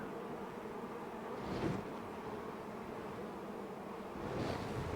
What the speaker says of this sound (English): when I get up, you'll see how many bees are waiting to get in